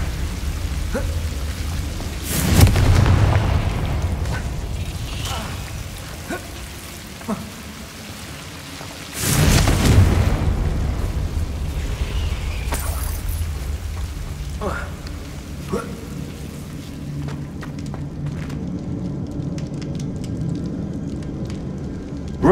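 Confringo fire spell explosions in the Hogwarts Legacy video game, two loud booming fiery blasts a few seconds apart, each followed by a crackling roar that fades into a steady rain-like rumble.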